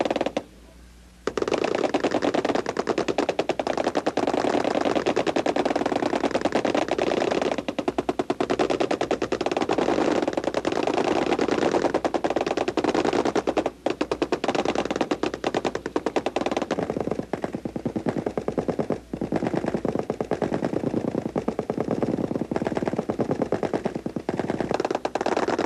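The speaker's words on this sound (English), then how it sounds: "One of the treats we all have is waiting for the firing of the M60 machine gun." An M60 machine gun fires on a military range at Fort Leonard Wood in long, sustained loud bursts of rapid shots, with a brief pause near the start and another in the middle.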